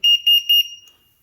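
Small add-on buzzer fitted to a Stark Varg electric motorcycle, sounding three quick, loud, high-pitched beeps in a row, then fading out, with no one talking.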